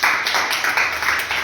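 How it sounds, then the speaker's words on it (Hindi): Children clap their hands together in a quick, steady rhythm close by, a brief run of bright, regular claps with no talking. "ताली बजाओ।"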